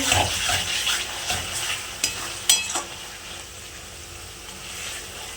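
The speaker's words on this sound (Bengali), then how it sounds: "মশলাটা ভালোভাবে কষিয়ে নিয়েছি" Red spice paste for aloo dum sizzles in a pan while being stirred and sautéed, a soft continuous frying hiss broken by a few sharp scrapes and clinks of the spoon against the pan, close up and without talk.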